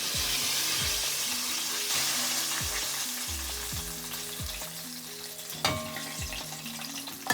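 Crackling, bubbling sizzle of Jamaican-style chicken frying in hot oil in a pot, steady and close, with occasional clinks of a utensil or lid against the pot.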